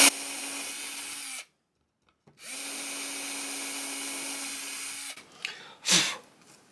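A power drill boring pilot holes during a rebuild of a Galiano archtop guitar neck, two steady whirring runs of several seconds separated by a short pause, then brief handling noise and a breathy sound.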